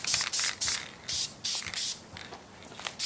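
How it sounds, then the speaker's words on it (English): An aerosol can spray-paints a plastic bottle prop in six short, loud hissing bursts with brief gaps between them. A few fainter puffs follow toward the end. "now I'm just gonna go ahead and spray paint this"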